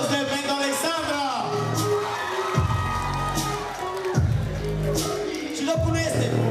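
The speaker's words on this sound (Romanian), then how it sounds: "Aplauze pentru Alexandra!" A crowd at a high school freshman ball cheers, whoops and shouts in a loud, sustained burst, with children's voices prominent over music and general crowd noise.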